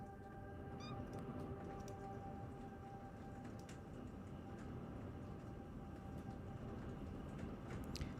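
A cat meows faintly a couple of times over a steady background hum, with no talking.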